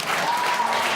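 Audience applause fills a hall in a short, dense burst of many hands clapping, steady and even for about a second.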